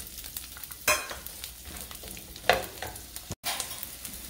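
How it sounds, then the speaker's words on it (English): White onion frying in oil in a pan, a steady sizzle broken by two louder scrapes of stirring, close and clear with no talking. "We're going to add in the white onion."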